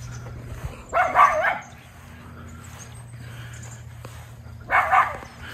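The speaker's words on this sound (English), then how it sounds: "They always bark at the neighbors." Miniature Schnauzer dogs barking in two short bursts, a volley near the start and another near the end, with quiet household sound and low hum in between.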